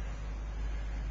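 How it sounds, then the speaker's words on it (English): A Ford Mustang's 4.0 liter V6 engine idles with a steady, quiet low hum throughout the brief moment, with no talking. "And it's a nice running engine."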